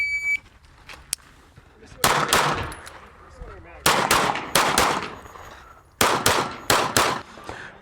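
Handgun shots ring out in rapid bursts at an IDPA shooting match stage, loud and close, in several quick strings with brief pauses while the shooter moves between targets.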